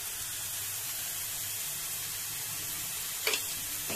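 Ginger paste sizzles in a hot pan while being sautéed for a cauliflower roast, giving a steady, soft hiss of frying with a brief clink of a utensil near the end.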